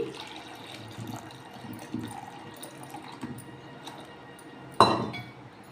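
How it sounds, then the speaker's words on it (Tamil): Coconut milk water pours quietly into a pressure cooker with soft splashing, followed by a sharp metallic clink near the end. "எடுத்து வச்சுருக்கிற தண்ணி பாலை ஊற்றி"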